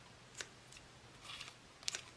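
Ribbon scissors snip ribbon while a cookie packet is being wrapped: a few quiet, close, crisp cuts spaced apart, the last a quick double snip, in an otherwise hushed room.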